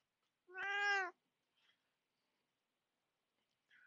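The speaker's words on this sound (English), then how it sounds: "the cat's in the background meowing" A house cat gives a single drawn-out meow in the background, faint and somewhat distant, followed by quiet stillness.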